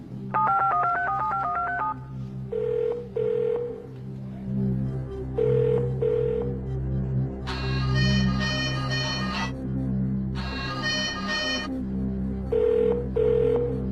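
A telephone line rings and dials in a TV quiz show's phone-a-friend moment: bursts of ringing tones and dial-tone beeps in an uneven sequence, fairly loud, with short pauses between.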